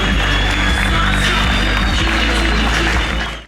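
Audience applause for chili pepper eating contest participants at an Edirne festival: a dense, steady wash of clapping and crowd noise outdoors, loud and continuous before fading at the end.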